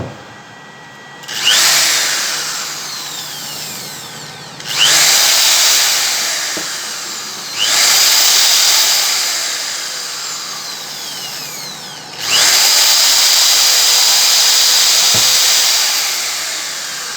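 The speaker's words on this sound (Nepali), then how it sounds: "मसँग यहाँनिर पहिला सुरुमा चाहिँ यो ड्रिल टेस्ट गर्छु" A 300–450 watt corded electric drill runs off a 1000VA inverter in four separate bursts, each a loud, close whine that spins up sharply and then sags slightly before stopping, with brief quiet gaps between runs.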